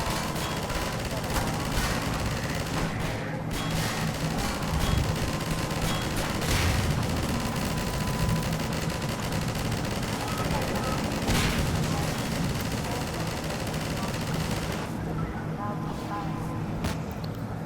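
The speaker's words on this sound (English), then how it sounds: "the machine gun sequence is fun" Rapid machine gun fire in the Half-Life 2 Episode One video game, dense bursts of automatic shots and booming blasts rattling continuously with brief lulls.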